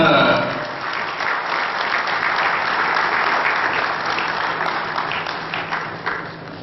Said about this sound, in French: Un grand applaudissement pour ce Masters Team 2010.